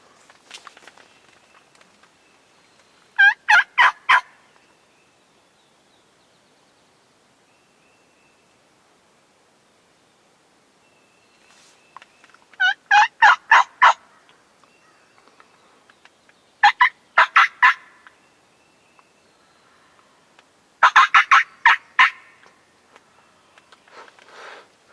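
Wild turkeys gobble in Vermont woods, four separate bursts of rapid rattling calls spaced several seconds apart, moderately distant with quiet woodland between them.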